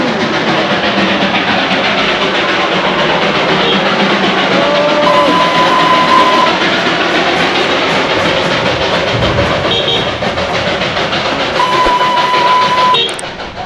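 A steam engine train arrives at the Batasia Loop in Darjeeling, with a loud, steady mechanical rumble close by and two sustained whistle or horn tones over it, without speech.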